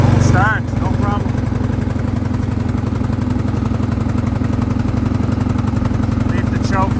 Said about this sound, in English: Oh, here we go. Cold start, no problem.